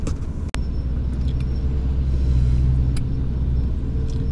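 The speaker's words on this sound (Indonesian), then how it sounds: "Masih terjebak macet lampu merah, guys." Street traffic stuck in a jam at a red light in Tulungagung during the evening office rush, a steady low rumble of idling cars and engines close by, with a sharp click near the start.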